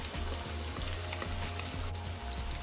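Onion and scallion sizzle steadily in hot oil for Jamaican franks and beans, a loud continuous frying hiss with low rhythmic bumps of stirring underneath, close and without talk.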